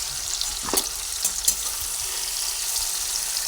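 Okra fries in hot oil in a pan with a constant close hiss and crackle, broken by a few sharp scrapes and clinks of a stirring utensil, and no one talking.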